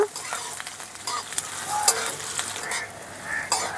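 Garlic and nigella seeds fry in a pan with a soft, steady sizzle, broken by faint scrapes and clinks of stirring, close and fairly quiet, with no talking.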